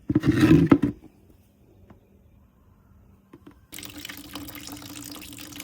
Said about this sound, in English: To drain that, I'm just going to pull the overflow pipe off, bring it down.